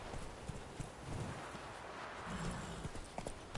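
Roach the horse trots in The Witcher 3, with quick, rhythmic clip-clopping hooves at low volume.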